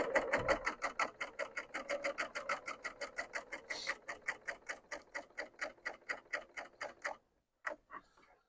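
A serger runs in fast, even bursts of stitching while sewing log cabin quilt strips, with a steady rapid ticking rhythm close by that stops briefly near the end before a last short run.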